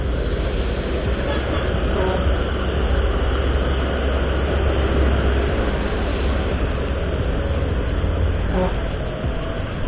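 Busy morning traffic with trucks on the Porong–Gempol arterial road, heard from a moving motorcycle: a loud, constant roar of engines and wind rumble, with a rider talking over it.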